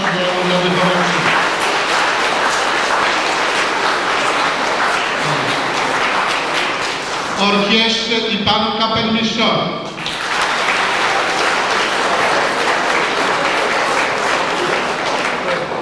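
A crowd at a Polish school assembly for the 3 May Constitution Day in 1997 gives sustained, dense applause for the class and teacher, with a voice speaking over it midway before the clapping swells again.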